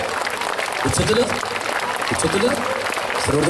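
A congregation at a 2017 Bible convention in Parassala claps together while voices call out loudly. The clapping is mid-level and runs under prominent spoken and shouted voices.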